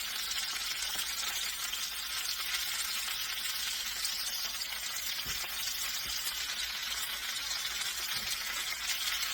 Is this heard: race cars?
no